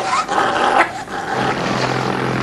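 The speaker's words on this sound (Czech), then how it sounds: "Pozor, ty psi." Dogs growl and bark loudly and close by over steady low background noise, in a tense scene with a possible sighthound chase near an aircraft; no one speaks.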